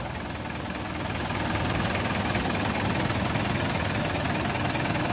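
A 2006 Optare Solo M850 Slimline bus with a Euro 3 Mercedes engine and Allison automatic gearbox idles with a steady, dense diesel rumble, close and constant throughout.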